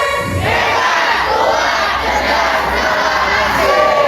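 A crowd of Islamic boarding school students shouts a group chant in unison, loud and energetic, a continuous roar of young voices with whoops rising near the end.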